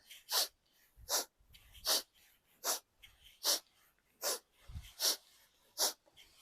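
Forceful exhales during an energetic breathing exercise, eight or nine sharp breathy bursts in a steady rhythm about every three-quarters of a second, close and fairly loud with quiet gaps between.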